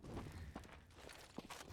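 Quiet, quick footsteps in a CS:GO match on the Dust2 map, a few soft irregular scuffs and taps that sound faint and a little distant, with no talk over them.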